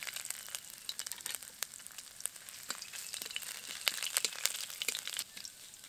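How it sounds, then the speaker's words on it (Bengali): Chopped ginger fries in hot mustard oil with black cumin and dried chillies, a steady quiet sizzle dotted with sharp popping crackles throughout. "আদা কুচিটা একটু ভাজা হয়ে এসেছে।"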